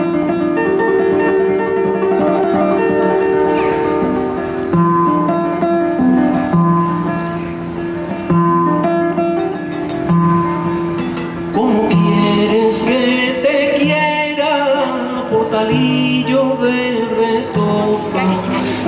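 An African harp plays a Castilian folk song in a live concert setting, with bright plucked notes and flowing melodic lines ringing loud and close; a singing voice seems to join in during the later part.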